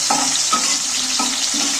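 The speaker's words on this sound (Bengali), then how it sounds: "টমেটো কাঁচা লঙ্কা সবই ভাজা হয়ে যাবে" Steady loud sizzling of tomatoes and green chillies frying in a hot pan, with a few soft stirring scrapes and no voices.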